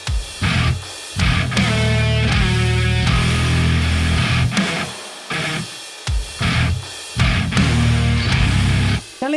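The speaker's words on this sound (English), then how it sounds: "But now if you hear the bass and the drums with the guitars," Heavy djent-style metal, with bass, drums and compressed, EQ'd guitars playing together in loud chugging bursts separated by short gaps, including a slow guitar bend.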